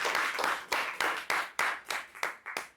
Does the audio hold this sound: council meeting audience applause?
yes